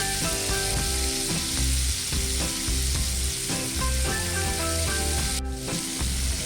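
Chicken wings fry in a pan over medium heat, a loud, steady sizzle with continuous crackling, joined by a rhythmic clatter from the cookware that repeats throughout, with no talking.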